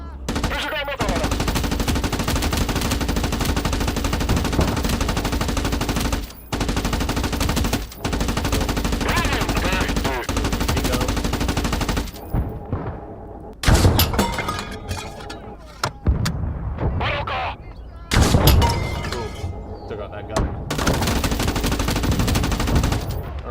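Vickers machine gun fire in a World War-era video game set in Finland: long sustained bursts of rapid automatic fire, loud and dense, broken by short pauses and scattered single shots, with faint voices in the gaps.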